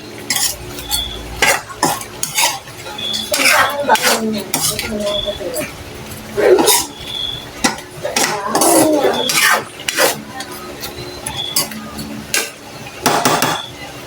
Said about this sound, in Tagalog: hahaluin po natin